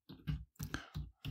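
Computer mouse clicks while working in Excel, several short close clicks in an irregular rhythm, quiet and alone.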